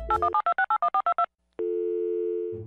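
A phone call placed in Minecraft: a quick run of about ten short dialing beeps, a brief silence, then a single long steady ring tone sounding alone and unanswered.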